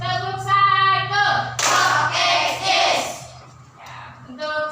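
Schoolchildren in a classroom clapping in unison as part of a clapping game, a burst of several crisp group claps following chanted children's voices, with voices returning afterward.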